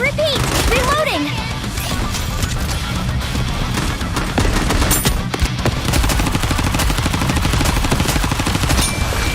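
Dense, loud automatic gunfire rattles without pause through a battle in the Goddess of Victory: Nikke video game, with layered rapid shots, impacts and game music underneath.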